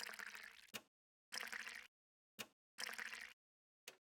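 Water pours in the Nancy Drew game in short splashing bursts of about half a second, each ending in a small drip-like tap, with dead silence between them.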